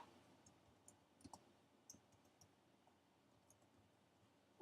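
Scattered soft computer mouse clicks, a few sharp taps spaced irregularly over a quiet background, with one louder knock at the end.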